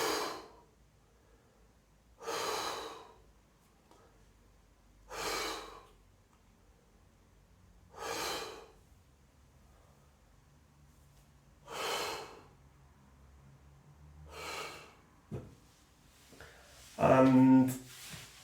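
Slow, controlled breaths during a sidelying hip abduction exercise, six or seven evenly spaced breathy exhales close to the listener, ending with a heavier, rougher breath.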